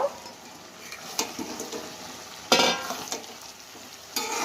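Pakoras sizzle in a pan, a soft steady fry under sharp scraping and clattering stirs that come in irregular bursts, close by, with no one talking.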